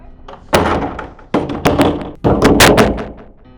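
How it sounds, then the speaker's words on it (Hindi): Heavy fists bang on a closed door in loud, close bursts of repeated thuds, each burst a rapid cluster of hits separated by brief pauses. "शांति, दरवाजा खोल"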